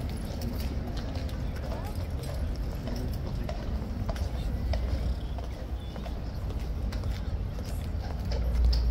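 Hooves of a King's Guard horse clip-clop steadily on hard ground, close and continuous, with someone talking over the hoofbeats throughout.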